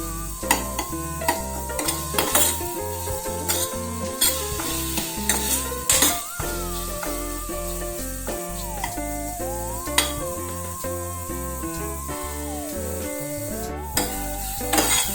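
Cooked jackfruit is mashed in ghee with a ladle, giving steady rhythmic scraping and clinking against the pan over a sizzle, with background music.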